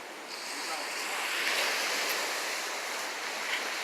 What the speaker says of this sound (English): You guys can hear the water.